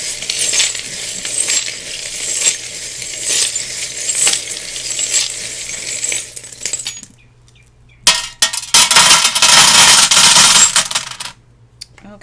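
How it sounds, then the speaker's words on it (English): Tarot cards shuffled by hand for a card reading, a loud, close run of rapid clicking and clattering bursts that pause briefly and then resume more intensely before stopping. "And I'm going to shuffle for you now."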